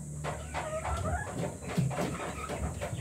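Rhode Island breeder hens and a rooster in a cage on a farm cluck and murmur close by, giving a busy, continuous stream of soft calls.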